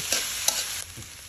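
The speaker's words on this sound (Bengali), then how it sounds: "এখন আমি ডালটা ভেজে নিচ্ছি।" Mung dal frying in a pan gives a brief, steady close sizzle, with a few soft stirring scrapes over the hiss.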